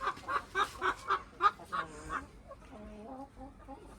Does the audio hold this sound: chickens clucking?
yes